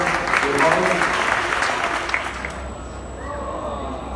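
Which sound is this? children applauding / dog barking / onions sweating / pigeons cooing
children applauding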